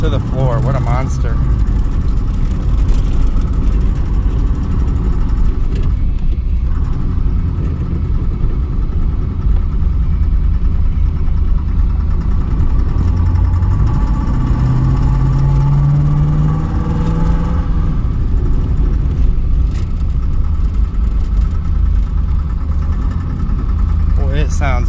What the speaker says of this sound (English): it sounds bad. It's knocking or something. Almost trying to idle.